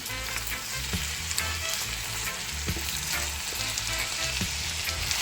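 Canned ackee scalding in a hot frying pan for Jamaican salt mackerel and ackee, a steady loud sizzle running throughout with occasional soft stirring clinks, no voices.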